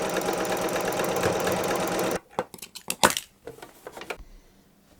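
A sewing machine stitches a buttonhole in tea towel fabric, running as a steady fast whir for about two seconds and then stopping, followed by scattered clicks and handling noises.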